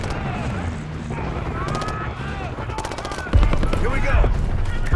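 Rapid bursts of gunfire in Call of Duty: Black Ops 6 crackle and rattle in a loud, continuous barrage near a helicopter, with heavier blasts near the end and voices shouting underneath.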